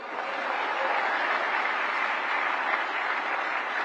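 A large audience gives sustained, dense applause at a national award ceremony honouring actor Mohanlal, a steady even roar of many hands with no pauses and no clear voices.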